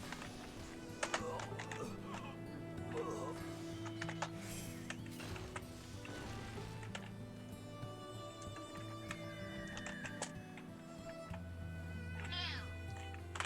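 A single short cat meow comes near the end, over continuous background music with mechanical clicking and keyboard taps throughout.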